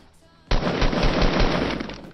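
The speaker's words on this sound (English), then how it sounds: "They're shooting at each other." Rapid automatic gunfire in Fortnite Battle Royale bursts in suddenly and loudly, a sustained stream of shots lasting about a second and a half.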